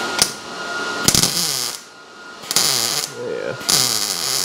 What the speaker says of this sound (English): I'll plug weld this.